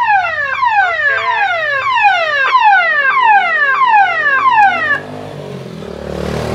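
A homemade landslide early-warning alarm wails loudly and steadily, its electronic siren tone sweeping downward in rapid repeated falls for about five seconds before cutting off, leaving faint background noise.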